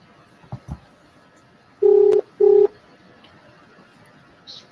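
Someone dials a telephone to make a call: two clear, loud DTMF beeps of equal length follow a couple of faint taps, set against a quiet background with no talking.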